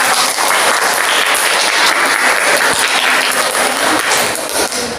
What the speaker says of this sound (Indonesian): Iya, good job, tepuk tangan.